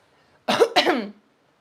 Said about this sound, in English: I also want to clear my throat